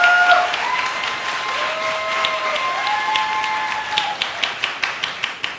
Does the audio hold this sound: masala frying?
no